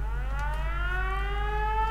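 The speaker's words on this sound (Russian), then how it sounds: "Я сделал, тут есть сирена." Civil defense style siren from the video game Fallout 4, a steady wailing tone with rich harmonics slowly rising in pitch over a low hum, fairly faint and continuous, with no speech.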